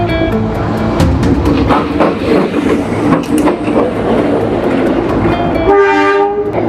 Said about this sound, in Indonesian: sudah ada kereta api jarak jauh yang juga sudah melintas dari arah Jakarta menuju keluar Jakarta